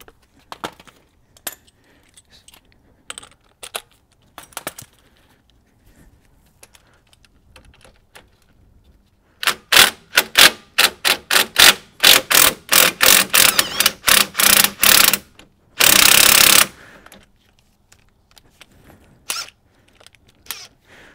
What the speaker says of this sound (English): We're taking off this 18 millimeter bolt here and then the other one down at the bottom.